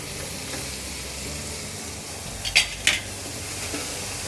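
Two dried red chillies hit a hot pan over a low-to-medium gas flame, giving two quick sharp sizzling bursts over a steady background hiss.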